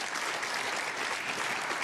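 A snooker crowd at the 2017 Scottish Open applauds steadily, a dense, even clapping that fills the short moment without any voices.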